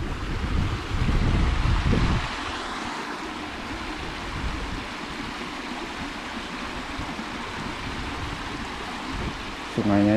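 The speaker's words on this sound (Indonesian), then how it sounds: "Ini ada sungai kecil, airnya jernih banget." A small clear stream flows at the edge of a forest beside a remote village, a steady close water rush mixed with wind noise and brief low rumbles near the start and end.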